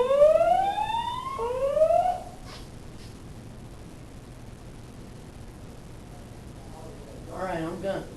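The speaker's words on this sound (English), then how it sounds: "The signal you have just heard indicates a report of an emergency in this building." A fire alarm sounds inside a university student learning center, giving two rising whoop tones over about two seconds. A quiet pause follows, and a faint voice comes in near the end.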